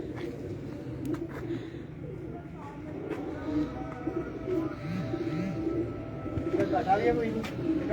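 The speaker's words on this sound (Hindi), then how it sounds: "तो ये बेमिसाल कबूतर हैं, ये बहुत उड़ते हैं अल्हम्दुलिल्लाह।" Breeder's high-flying pigeons with black tail markings coo in soft, rolling throaty calls close by, while people talk over them.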